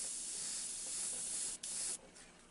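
Flames go onto a 1934 coupe under a close, steady airbrush hiss of spraying paint that cuts out for a moment and then drops to a softer spray near the end.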